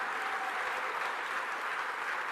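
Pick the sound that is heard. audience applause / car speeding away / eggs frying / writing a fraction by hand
audience applause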